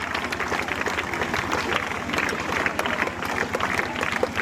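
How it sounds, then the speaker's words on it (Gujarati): Applause at a rural school's annual function welcoming a schoolgirls' performance, a dense, steady patter of many hands clapping throughout, with crowd murmur and some talk mixed in. "શાળાની બાળાઓ કરી રહી છે અને આપણે બધા તાળીઓથી સ્વાગત"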